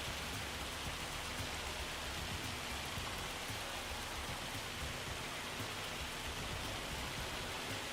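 Hail and rain falling in Farming Simulator 25, a dense, steady hiss of drops drumming without pause, fairly faint and even throughout with no voices.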